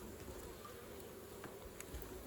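Bees buzzing steadily around a swarm trap as honeycomb is cut with a knife and smoke is used, a faint continuous hum close by with a few soft knocks, no voices.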